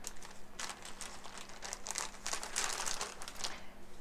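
A quilting fabric packet from Cotton Cuts being opened, with close, quiet plastic crinkling and rustling in irregular bursts throughout.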